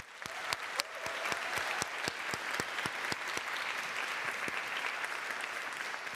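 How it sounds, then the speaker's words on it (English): Steady applause from a modest audience at a national speech and debate tournament final, continuous clapping with a few sharper claps standing out, moderately distant and sustained. "I want to give a quick round of applause"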